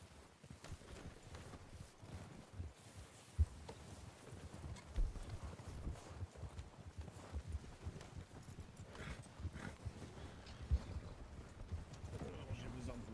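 Horse hooves clip-clop steadily from a horse-drawn wagon in a Western roleplay video game, a continuous rhythmic patter under people talking over voice chat.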